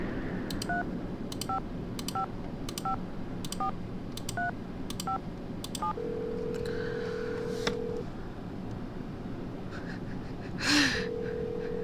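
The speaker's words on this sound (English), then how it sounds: "Here, let's give a phone call to Ned." Telephone keypad tones dialing a call in the Nancy Drew game Treasure in the Royal Tower: a quick run of about nine evenly spaced beeps, then a long steady tone and a faint breathy sound near the end, with no talking.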